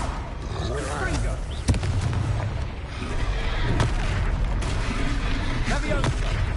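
Confringo blasting-spell explosions in the Hogwarts Legacy video game, several sharp booms and blasts over a busy battle soundscape with voices calling out spells between them.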